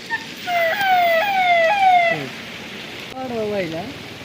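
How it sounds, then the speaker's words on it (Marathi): A police car siren wails loudly nearby at night, its tone stepping up and down in repeated sweeps, with heavy rain hissing steadily in the background beside the flooded Godavari River in Nashik district. "हे बघा पोलीस गाडी आली"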